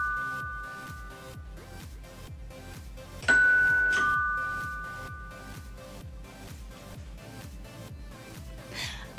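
A doorbell gives a single ding-dong chime that rings out and slowly fades over a quiet, steady background music beat.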